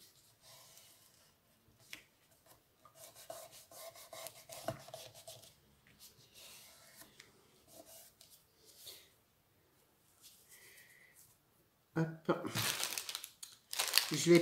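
Paper laid over a glued handmade shabby-style Christmas card and pressed down, heard as soft scattered rustles and crinkles under quiet French talk, ending in a louder burst of crumpling.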